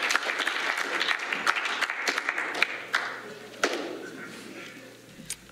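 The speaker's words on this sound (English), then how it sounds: "So smattering of applause for Tina." An audience at a fellows' gathering breaks into a smattering of applause: loose, uneven handclaps with a few sharp louder claps stand out, and the clapping thins out toward the end.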